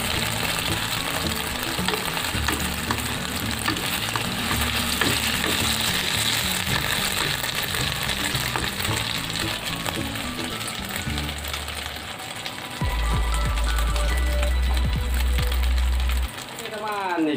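Egg poured into already hot oil for an Indonesian fried egg meal, giving steady crackling and sizzling with clatter from pan and utensils, loud and close, with a louder burst near the end.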